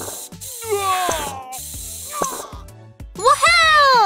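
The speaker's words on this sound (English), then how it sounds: "Let's defeat the bad viruses by spraying medicine!" A cartoon spray of medicine hisses in short bursts mixed with playful sliding and ratcheting effects, bright chimes and squeaky cartoon voices, loud and busy.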